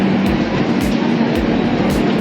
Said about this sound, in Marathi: ती या प्लॅटफॉर्मवर लागली आहे